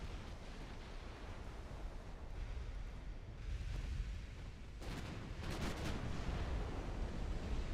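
A torpedo detonates in a naval warfare game, a deep rumbling boom rolling over a steady roar of sea and wind, with sharper bursts following near the end.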